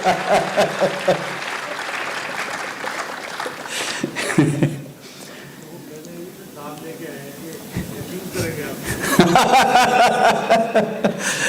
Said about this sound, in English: Then yes, you should clap.